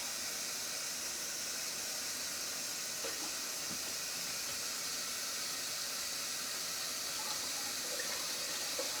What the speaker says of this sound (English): now I'm gonna put some more hot water in it.